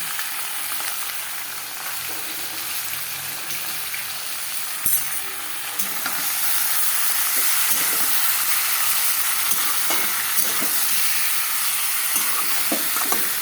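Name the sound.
sautéing with onion, ginger and garlic paste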